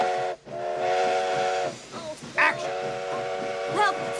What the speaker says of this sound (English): Okay, Dave, cue the train.